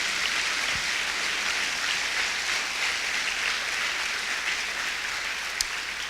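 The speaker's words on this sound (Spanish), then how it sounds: "Dele un aplauso al Señor así fuerte." A church congregation applauding loudly during a sermon, a dense, even roar of many hands clapping that holds steady from start to finish.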